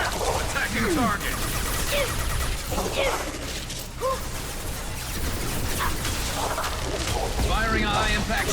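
Gunfire rattles through a firefight in Mass Effect 2 Legendary Edition: repeated loud bursts of shots and heavy impacts pile on top of one another, with voices calling out during the shooting.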